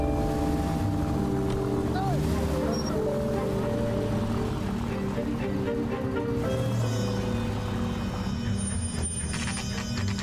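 A car drives through the streets of L.A. Noire with a steady engine drone and road rumble that holds loud and constant throughout.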